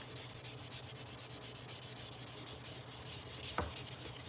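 A forged blade is hand sanded at 1000 grit in a rainy-day forge, with close, fast, even back-and-forth rasping strokes in a steady rhythm and a brief knock near the end.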